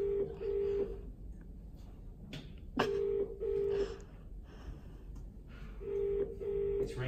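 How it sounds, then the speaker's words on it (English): A phone line rings out in repeated paired electronic tones, each burst followed by a pause, with a click partway through, heard faintly over a low room hiss and no talking. "It's ringing."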